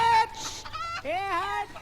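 Several short clucks and squawks from chickens, close and fairly loud, in quick succession with brief pauses between calls.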